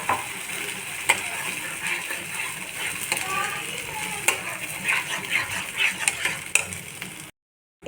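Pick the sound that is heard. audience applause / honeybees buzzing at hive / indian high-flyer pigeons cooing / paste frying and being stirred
paste frying and being stirred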